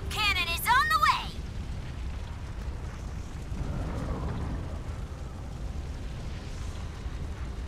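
In the video game God Eater 2: Rage Burst, a brief voice gives way to a deep, rumbling cannon blast that rolls on as a long, low roar and slowly settles into a sustained heavy rumble.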